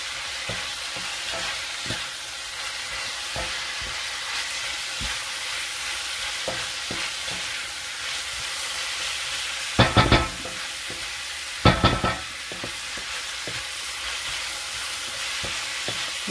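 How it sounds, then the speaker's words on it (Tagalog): Vegetables stir-fry in a wok for bihon noodles, a steady soft sizzle with light scraping stirs, and two sharp bursts of clattering metal near the end. "ngayon, ito muna yung ating pina-fry gulay"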